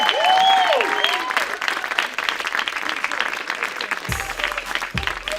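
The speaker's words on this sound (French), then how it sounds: "du bruit pour Mathieu, mesdames et messieurs" Loud crowd applause and cheering, steady clapping throughout with a whistle near the start and brief low thuds toward the end.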